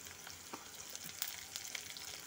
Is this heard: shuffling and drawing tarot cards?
no